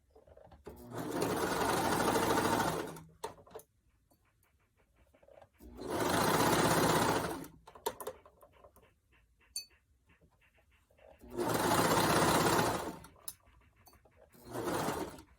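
A sewing machine stitches fabric in three long, steady runs of fast mechanical whirring, with quiet pauses between them filled by small clicks and handling noises.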